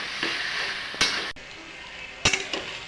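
Hilsa fish head with taro greens being stirred in a pan, a soft sizzle under a few sharp scrapes and clinks of a spatula against the metal.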